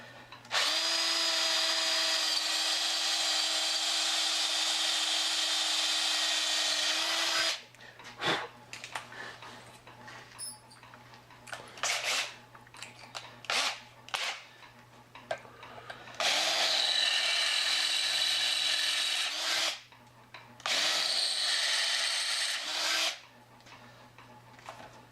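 A power drill bores holes through metal seat brackets for a 2001 Chevy 2500HD, running in long steady whines with a pause of quieter handling sounds between bursts.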